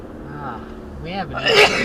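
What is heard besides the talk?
sneeze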